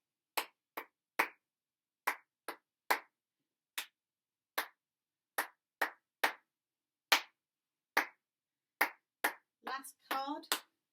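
Hands clap out a rhythm in a violin lesson, a series of sharp, close claps in an uneven pattern against near silence, ending with a few brief bursts of speech.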